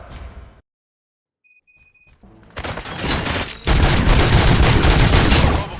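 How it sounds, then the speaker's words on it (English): Gunfire in the video game RoboCop: Rogue City: after a near-silent gap and a few electronic beeps, loud bursts of rapid shots and booms build into a sustained, intense barrage. "Gunshots? What's going on?"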